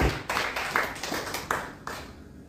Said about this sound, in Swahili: Katika jina la Yesu tumpigie makofi